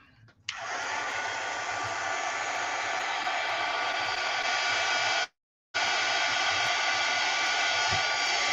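Hair dryer drying paint on a mixed media artwork: a steady, close blowing hiss switched on, running continuously, cutting out briefly, then resuming.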